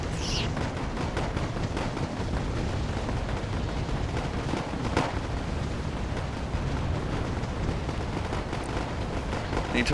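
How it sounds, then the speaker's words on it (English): Dense battle noise from the Wargame AirLand Battle video game: constant explosions, mortar blasts and small arms fire blend into a loud unbroken roar, with occasional sharper cracks standing out. "There's so much going on, so many explosions and mortars and small arms fire,"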